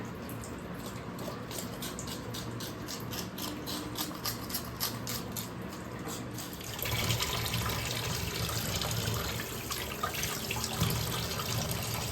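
Tap water running in a sink while vegetables are washed, a steady close splashing stream that grows a little louder and fuller partway through, with no voices.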